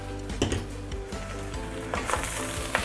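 Bean sprouts being stir-fried in a hot pan for Hokkien prawn mee, with a loud continuous sizzle and intermittent scrapes and clatters of the spatula against the pan.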